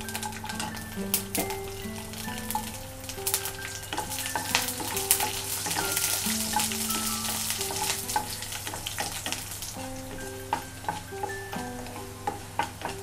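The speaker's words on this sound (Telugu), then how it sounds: "తాలింపు కొంచెం వేగిన తర్వాత మనం కట్ చేసి పెట్టుకున్న వెల్లుల్లిపాయ రేకులు కూడా వేసుకోవాలండి" Sliced garlic petals fry in hot oil with urad dal, cumin and mustard seeds for a tempering, giving a steady crackling sizzle punctuated by sharp pops and spoon stirring, close and continuous without talk.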